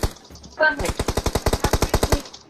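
Automatic gunfire in a multiplayer shooter video game, a fast, even burst of about fifteen loud, close shots in a row, after a brief sharper sound at the start.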